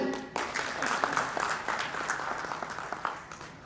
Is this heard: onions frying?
no